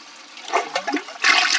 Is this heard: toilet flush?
yes